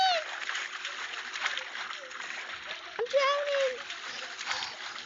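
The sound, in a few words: character splashing in water in Roblox Brookhaven video game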